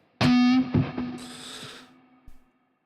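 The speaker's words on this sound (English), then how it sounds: "And there's some reverb. I think that's the delay I want." A brief distorted Kiesel electric guitar note rings out, trailing into echoing delay repeats and a washy reverb tail that fades within a couple of seconds.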